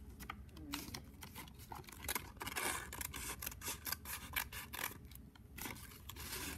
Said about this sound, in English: stick your scissors in and cut up